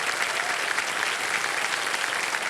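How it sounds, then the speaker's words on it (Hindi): Studio audience on KBC applauding, a loud, dense, steady burst of many hands clapping that holds at an even level throughout. "तालियां बज जाए इनके लिए।"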